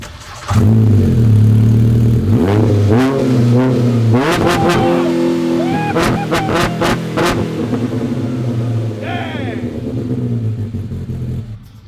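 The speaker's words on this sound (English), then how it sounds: "You guys want to hear this thing? Probably one of the best sounding Pro R exhausts I've driven." A 2022 Polaris Pro R four-seat UTV with a Trinity center dump exhaust idles loudly, then revs repeatedly in sharp rising blips, very close and deep, with someone talking over parts of it.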